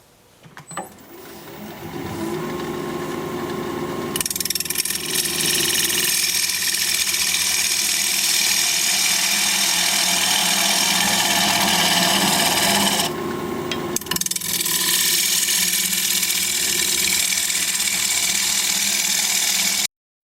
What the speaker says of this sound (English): 5/8 inch bowl gouge, 1200 RPM, mask and face shield on.